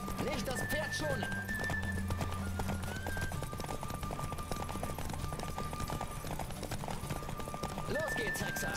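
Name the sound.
horse galloping in the video game The Witcher 3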